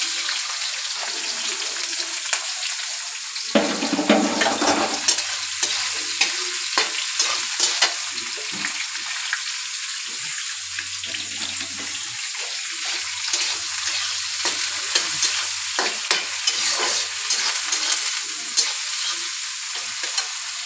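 A spoon stirs pulao rice with nuts, raisins and peas as it fries in a pan, giving close scraping and clinking over a continuous soft sizzle, with a brief louder stir burst partway through.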